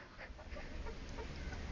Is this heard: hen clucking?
yes